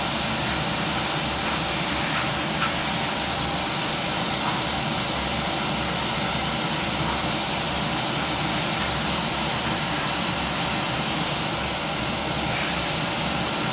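An airbrush spray-paints parts of a Tamiya 1/32 Spitfire model with a loud, continuous hiss. The hiss holds steady for over ten seconds and is heard alone, with no talk.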